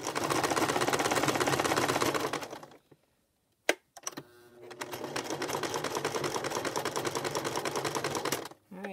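A home sewing machine stitches fabric strips, running in a fast, even, close mechanical chatter for about two seconds, stopping with a few clicks and handling noises, then starting again for a longer steady run.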